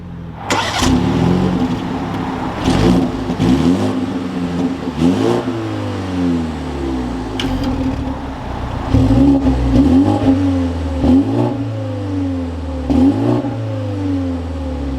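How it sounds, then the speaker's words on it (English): A 2023 BMW 330i starting up, then revving repeatedly in rising and falling sweeps over a steady idle, loud and close throughout, no talking. "But let's fire this 330i back up."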